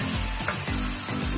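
Indomie noodles with tomato sauce being stirred in a hot pan, a loud close sizzle with repeated scraping strokes of the spoon in quick rhythm.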